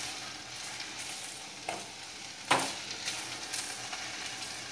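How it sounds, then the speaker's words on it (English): Okra sizzling and being stirred in a hot pan for bendakaya pulusu, a steady frying hiss broken by a few scraping stirs, close and alone without talk. "Let's mix it well. Now mix it for 5 minutes."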